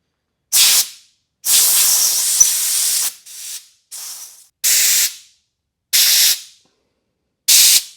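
Compressed-air blower in a workshop, releasing a series of loud, sharp hissing bursts of varying length, from a long three-second blast to short spurts, with silence between them.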